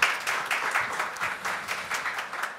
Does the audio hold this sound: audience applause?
yes